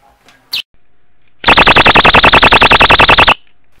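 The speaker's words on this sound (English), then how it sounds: "So I'm going to go ahead and open the door, and that will allow that to fall out and separate, and hence the alarm will initiate." A Safebox travel security door alarm goes off as a door opens, a loud, rapidly pulsing electronic buzzer lasting about two seconds after a brief click, then stopping abruptly.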